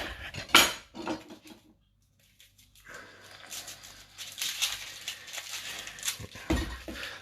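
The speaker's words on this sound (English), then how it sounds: "I'm going to slice our onion." A knife slices an onion on a board, with irregular close clacks and cutting taps, a brief quiet gap, then renewed clattering handling and chopping, no speech.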